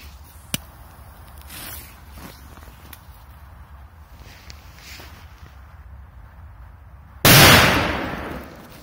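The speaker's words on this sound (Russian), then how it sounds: "Дальше петарда Thunder King." A Thunder King firecracker goes off in one sharp, loud blast near the end, its roar trailing away, after a quieter stretch of faint pops and shuffling steps outdoors.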